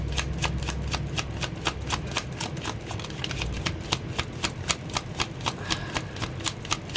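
A deck of tarot cards being shuffled, a rapid stream of crisp riffling snaps at close range, steady and rhythmic over a soft background hum.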